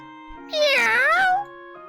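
A cat meows once in the video game Witcharoo, a drawn-out, rising-then-falling call that stands out clearly over a steady, quiet musical background.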